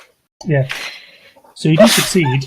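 One loud, sharp sneeze bursts out from someone close by during a tabletop role-playing game session, with a voice talking just before and after it.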